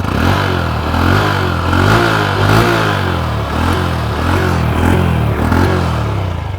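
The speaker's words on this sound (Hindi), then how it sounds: "आइडियल कंडीशन पर इंजन साउंड सुनो" Honda CB 125 Hornet motorcycle engine idling, a steady loud close-up putter with a regular pulsing beat and faint mechanical clatter, running alone without talk.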